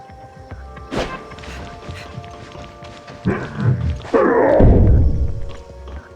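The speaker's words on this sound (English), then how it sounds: "It sounds like someone's banging on the door." Heavy thuds of someone banging on a door in the Tower of Fantasy video game, a cluster of dull knocks building into louder pounding near the end over a quiet hum.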